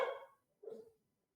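A small pet dog gives two short, faint barks indoors, the first sharper and the second lower, with a brief pause between them.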